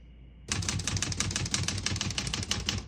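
Rapid, even key strikes clatter on a 1964 Olivetti Lettera 32 portable typewriter, a close, continuous run of sharp mechanical taps with no talking.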